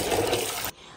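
Water pouring and sloshing while chana dal lentils are rinsed: a loud, close rush of water that cuts off abruptly near the end, leaving quiet background.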